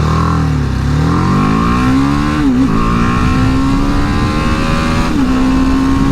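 BMW G310 GS motorcycle accelerating at full throttle, engine pitch climbing steadily through the gears with brief dips at each shift, loud and close throughout.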